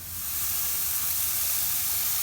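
Shrimp and steak sizzling on a hot grill, a steady broadband hiss that swells in at the start and holds evenly, close and fairly loud with no one talking.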